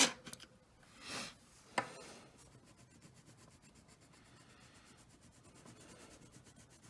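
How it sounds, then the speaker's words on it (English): A colored pencil is sharpened, a few scraping turns and a sharp click early on, then a faint steady gritty rubbing that continues quietly in a still room. "this point's a little dull, so I'm gonna give it a sharpen."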